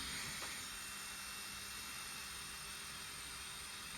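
A tiny brushless motor on a mini OpenIPC drone spins during a motor direction test, giving a faint steady high-pitched whine with a low hum underneath and no talk.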